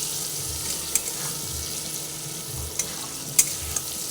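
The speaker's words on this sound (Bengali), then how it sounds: "হলুদের গুঁড়োটা দিয়ে ভালো করে ভেজে নিচ্ছি" Turmeric powder fries in oil for a vegetarian red amaranth stalk and poppy seed curry, giving a steady, fairly loud hiss with a few small sharp ticks and no voices.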